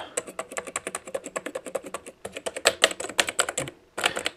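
Rapid typing on the keyboard of a Cifer 2486 intelligent terminal, a vintage computer terminal: crisp, close keystrokes in quick irregular bursts, with a brief pause before a final flurry.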